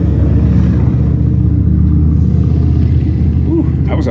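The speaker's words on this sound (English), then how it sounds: "that was a nice bike trundling by" A motorbike trundles past outside, a steady low engine rumble heard from a garage where a Dodge Ram Hemi 5.7 engine is being repaired, fairly loud and continuous, swelling slightly near the end.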